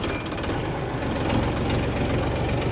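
A Massey Ferguson 1035 tractor on a muddy farm track runs with a steady, close diesel chug and low rumble, rhythmic and unbroken for a few seconds.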